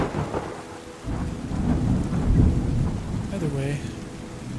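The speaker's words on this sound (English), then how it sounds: "The problem is I have to wait for it to stop raining." Rain pours steadily in the video game Terra Nil, with a low rumbling roll of thunder swelling through the middle of the downpour.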